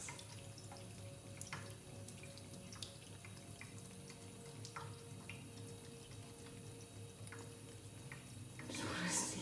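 A household faucet runs steadily at close range, with a continuous water hiss and scattered drips and splashes. A brief louder splash comes near the end.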